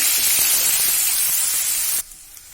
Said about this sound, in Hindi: जीरा चटक गया है। प्याज डालेंगे कद्दूकस की हुई।